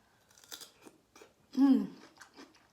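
A single loud, crunchy bite of fresh cucumber stands out between quiet stretches, with faint mouth noises and soft sounds before and after.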